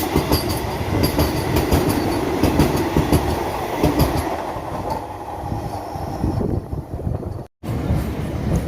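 A Kharagpur local train rolls along on its way to Santragachi, a loud, continuous rumble with rhythmic wheel clatter on the rails, heard from on board, briefly cutting out near the end.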